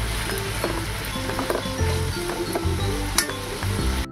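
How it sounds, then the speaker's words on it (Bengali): Potatoes sizzle and fry in a pan with salt while being stirred, a steady crackling hiss broken by scraping stirring strokes and occasional utensil clinks, close and continuous with no talking. "আলুগুলো প্রায় ভাজা ভাজা হয়ে এসছে।"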